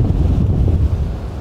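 Wind buffets the microphone on an ocean shore after a storm, a steady, close, low roar with surf mixed underneath for a brief moment.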